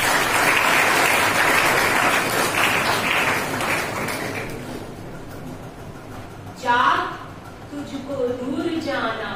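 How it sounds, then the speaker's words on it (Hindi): Loud, dense applause from an audience at a Hindi Diwas poetry recitation honouring Mahadevi Varma, filling the first several seconds and then tapering off as a voice begins speaking. "महादेवी वर्मा जी के लिए एक बार जोरदार ताली"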